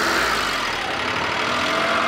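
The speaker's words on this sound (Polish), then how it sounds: "Pompa jest wyłączona, a silnik pracuje." A cogeneration engine running on natural gas, with its fuel pump switched off, gives a steady, continuous idling drone close by with a broad mid-range rumble and no talk over it.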